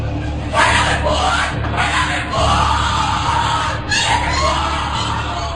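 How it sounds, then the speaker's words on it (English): A crowd of college students yelling and shouting during a Skull and Bones secret society initiation ceremony, loud, continuous and chaotic, with overlapping voices and whoops throughout. "What you're hearing is the first recording ever made of the Skull and Bones initiation ceremony."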